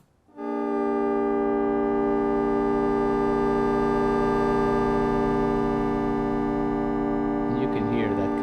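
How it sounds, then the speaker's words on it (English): A Haken Continuum running an EaganMatrix preset holds a steady, loud, harmonically rich synthesizer oscillator tone that swells in quickly and sustains without a break, with a brief warbling flutter near the end. "You can hear that constant oscillator at a low value in the background"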